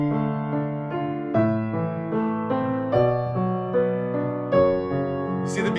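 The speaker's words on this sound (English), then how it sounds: "Minor would sound like this." Keyboard chords in a minor key, several sustained chords struck one after another in a steady sequence, clear and close with no voices.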